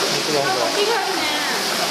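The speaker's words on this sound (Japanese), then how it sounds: "あ、滝があるね。" Steady rushing water fills the space, a broad constant roar of a waterfall echoing inside a limestone cave.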